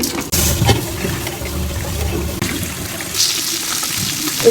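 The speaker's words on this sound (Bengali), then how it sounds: "ডালটা ধুয়ে নেব" Lentils rinsed under a running tap for a chicken biryani, a steady close splashing wash of water that runs throughout with a few brief clatters.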